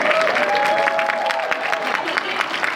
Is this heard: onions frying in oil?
no